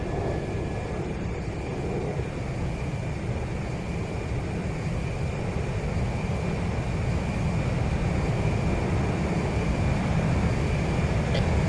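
Steady aircraft engine drone from a fixed-wing warplane in the Ace Combat Zero video game, a loud continuous broadband roar holding evenly throughout with no talk.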